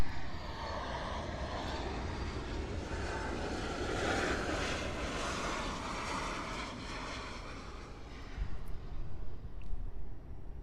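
A Boeing 737 MAX lands at Miami International Airport with a loud, steady jet roar that swells near the end, with no voices.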